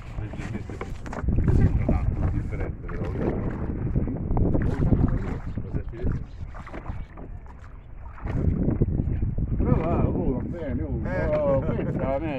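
Steady wash of water and wind around a small rowing boat, with splashing oar strokes, while people talk nearby.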